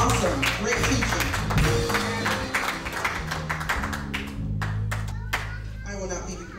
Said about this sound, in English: let's give our pastor a round of applause